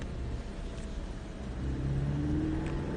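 A Porsche Cayman S engine on a driving course hums steadily, then rises in pitch and swells a little louder as the car accelerates, heard from inside the cabin with no talking.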